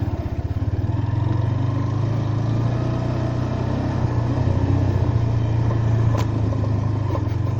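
A motorcycle rides along a muddy dirt track on wet ground, its engine a steady, loud, close rumble that holds throughout with slight revving changes.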